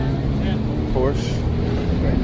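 A Porsche at the Daikoku Parking Area car meet in Japan gives off a steady low engine rumble among other cars, with a person talking over it.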